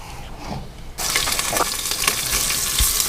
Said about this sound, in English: We don't want to cook them all the way. We're just going to brown them up a little bit.